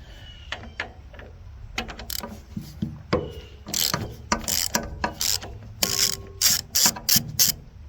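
Clicking ratchet work with a splined socket on square-headed bolts of a hay baler. Quick bursts of close metallic clicks come in short strokes, with occasional pauses.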